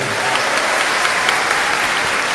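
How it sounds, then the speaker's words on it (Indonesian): A crowd claps steadily and loudly, a dense wash of applause with no pauses throughout. "Tepuk tangan buat Mariam."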